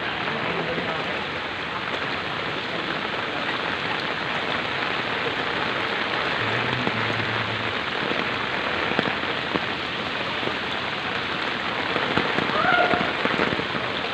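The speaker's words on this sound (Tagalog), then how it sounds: "ang tindi talaga guys ng ulan, ng bagyo" Heavy typhoon rain pours steadily, a loud dense hiss drumming on surfaces with no letup, wind-driven and constant throughout.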